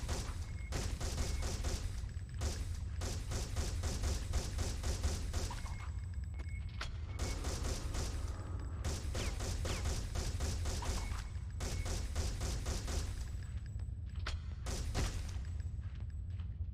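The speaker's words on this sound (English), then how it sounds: "I will use the pistol for that." Pistol gunfire in the video game Alien Resurrection, a long run of loud, close bursts of repeated shots. Brief pauses separate the bursts over a steady low rumble.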